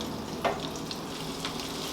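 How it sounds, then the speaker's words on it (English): Cubed steaks brown in a frying pan with a steady, quiet sizzle and a few brief sharper crackles and spatters, heard up close with no voices. "we're just going to brown these on each side"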